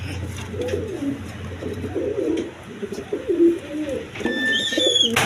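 Pigeons coo in repeated soft, throaty phrases at a pigeon market, with a few sharper chirps and faint background bustle close by.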